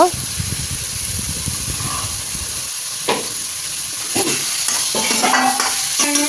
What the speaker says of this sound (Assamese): প্ৰথমতে চিকেনখিনি ভালদৰে ভাজি ল'ব